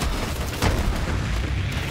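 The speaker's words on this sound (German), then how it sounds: "Wenn die jetzt die Explosionen kommen" Deep booming explosions in Borderlands 3 co-op gameplay, a dense low rumble with a sharper burst midway, loud and continuous.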